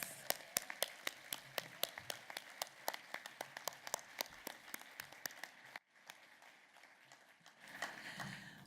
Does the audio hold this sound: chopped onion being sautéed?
no